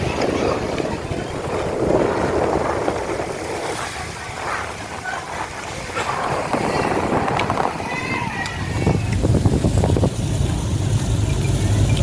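A speedboat moving on the sea off Sabang, its engine a low rumble under wind buffeting and water splash, growing stronger toward the end while people talk nearby.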